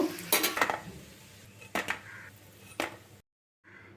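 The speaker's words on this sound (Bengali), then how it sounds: "আমার এই কাবাবগুলো সয়াবিনের কাবাবগুলো ভাজা হয়ে গেছে আমি এখন তুলে নেব" Fried soybean kebabs are lifted out of a pan with a metal utensil, making a few sharp clinks and scrapes against the pan over a faint sizzle, before the sound cuts off.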